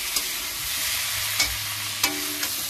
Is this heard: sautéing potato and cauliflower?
yes